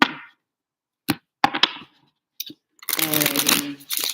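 Tarot cards are shuffled and flipped in a few quick papery snaps and slaps, followed by a brisk riffling flutter, close and clear against near silence.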